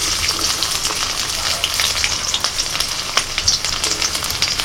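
Chopped garlic and whole cumin seeds fry in mustard oil with a loud, continuous crackling sizzle full of quick pops and spits, and brief stirring movements run through it. No one speaks.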